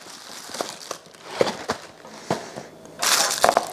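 A knife cuts through a freeze-dried Little Debbie Star Crunch, giving a run of dry crunching and crackling snaps that build to a louder, denser burst of crumbling near the end.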